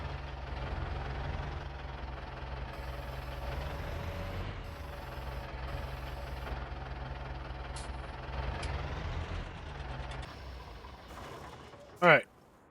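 A tractor engine in the video game Farming Simulator 19 drones steadily at a low idle, loud and continuous with no talking, ending in a brief sharp burst near the close.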